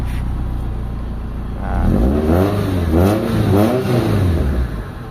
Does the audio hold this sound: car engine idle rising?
yes